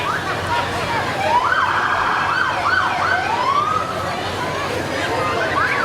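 A parade vehicle siren at a Christmas parade wails and yelps at a moderate distance, its rising and falling tones standing out over a busy background with voices.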